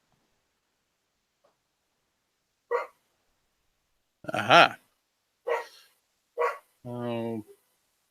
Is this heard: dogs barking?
yes